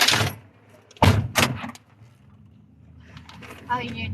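A car door shuts with a sharp, close thump followed by a second knock, then quiet, with a voice speaking afterward.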